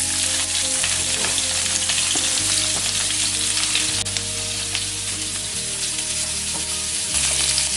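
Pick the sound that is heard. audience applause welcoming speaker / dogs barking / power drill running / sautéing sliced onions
sautéing sliced onions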